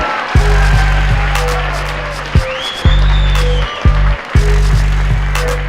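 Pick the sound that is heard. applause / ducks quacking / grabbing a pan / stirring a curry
applause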